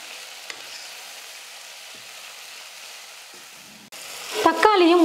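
Chopped tomatoes drop into a hot pan for drumstick-leaf sambar: a low, steady sizzle swells into louder crackling frying and stirring scrapes near the end.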